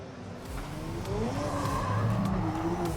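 A Pennzoil Ford Mustang RTR Spec 5D drift car revs hard at Formula Drift Irwindale. Its engine note climbs steadily and grows louder, with a hint of tire squeal underneath.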